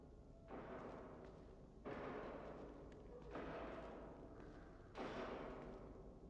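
An enemy bangs on a door in The Evil Within 2: four heavy, muffled thuds spaced roughly a second and a half apart, each followed by a short rumbling decay, fairly faint under a low background hum.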